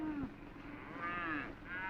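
Cattle moo in a busy stockyard, several low drawn-out bellows from nearby animals, one after another, with a rough, groaning tone and no talk over them.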